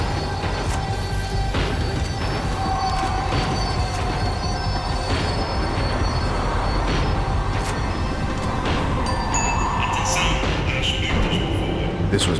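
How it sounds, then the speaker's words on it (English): Inside a tram slowing down in the video game Max Payne 3, a constant loud rumble of wheels on rails carries metallic squeals and clanks throughout. "The tram was slowing down, and I'd only just gotten on board."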